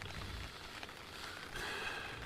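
Steady, faint patter of rain hitting a tent, continuous and close, with no voices.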